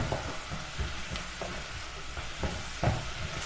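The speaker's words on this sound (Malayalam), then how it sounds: "മീഡിയം ഫ്ലെയിമിലിട്ട് സവാള ബ്രൗൺ കളർ ആകുന്നത് വരെ വഴറ്റിയെടുക്കാം" Onions sauté in a pan over a medium flame with a steady close sizzle, punctuated by occasional scraping stirs.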